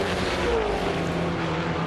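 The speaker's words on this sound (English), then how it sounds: "And you can hear them, they're on the rev limiter." Touring race cars at Bathurst in the 2010 Touring Car Masters scream along on the rev limiter, a loud continuous engine drone holding a steady buzzing pitch, with no voices heard over it.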